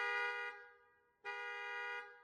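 Two long blasts of a car horn, each about half a second or more, separated by a brief gap, loud and close.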